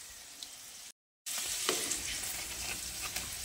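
Potato and egg snacks fry in a pan with a steady, close sizzle and scattered crackling pops, broken by a brief silent gap partway through; no voices.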